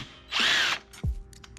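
A power drill runs on the rear set bolts of a Kawasaki Ninja 650 in one loud, steady whir of about half a second, followed by a short low clunk and quiet workshop noise.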